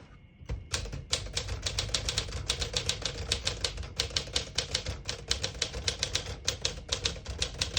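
Rapid keystrokes on a vintage manual portable typewriter, a steady run of sharp, close clacks with slight variation in rhythm and no talking.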